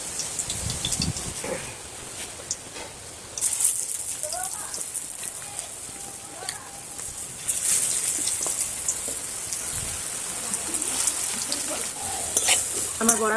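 Lentil-leaf paste fritters fry in hot oil in a wok, giving a steady crackling sizzle across the whole stretch that swells at times as they are turned, with faint voices in the background.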